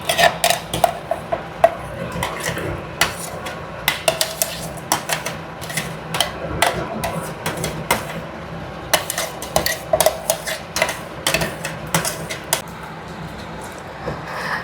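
A spoon scrapes and clinks against a pot while yogurt and peanut paste are stirred into biryani masala for Ambur style chicken biryani, giving steady irregular metallic taps close up with no talk.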